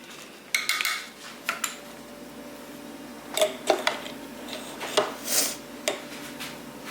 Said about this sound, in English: So I just put it in there and stir it, and it melts and just gets all through there.